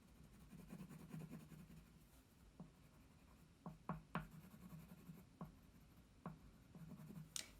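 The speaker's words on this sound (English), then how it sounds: "So I was drawing the brown along the lines of the hair" A brown colored pencil strokes across paper while hair is colored in, soft close scratching with a run of quick strokes, then scattered sharper taps and short lines at an uneven pace.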